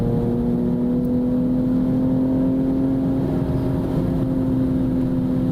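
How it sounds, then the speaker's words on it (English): Exhaust note of a BMW 240 cruising at highway speed, a steady sustained engine drone held at constant pitch with road and wind noise beneath it. "The exhaust system sounds amazing."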